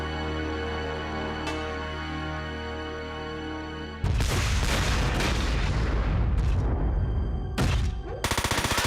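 Heavy cannon fire in the mecha video game Front Mission 4, a run of loud booming blasts and gunfire bursts following a stretch of steady game music, closing with rapid repeated shots.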